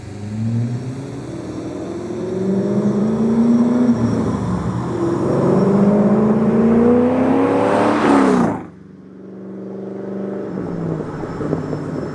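A C5 Corvette V8 with long tube headers, X-pipe and no mufflers revs hard and loud with a rough, open exhaust, climbing in pitch through several pulls before cutting off abruptly and idling low.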